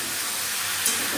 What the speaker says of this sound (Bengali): ভাজা হতে থাকুক।